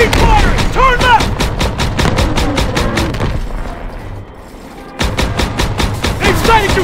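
Rapid, loud bursts of machine-gun fire and booming shots from the Call of Duty WWII campaign, with dense repeated cracks that drop away briefly mid-clip before the firing resumes.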